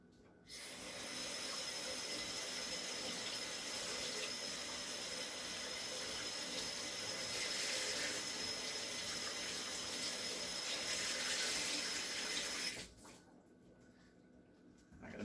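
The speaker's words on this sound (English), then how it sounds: "Rinse this out a little." Tap water runs steadily into a sink for a long stretch while something is rinsed out after cleaning an iron, a constant close hiss that stops abruptly near the end.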